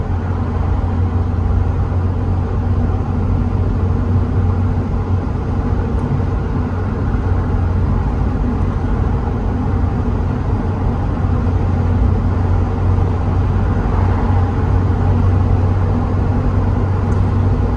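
A 1992 Porsche 968 Cabriolet with a four-speed Tiptronic automatic cruises along, a steady low engine rumble and road noise throughout with subtle shifts in tone, no talk.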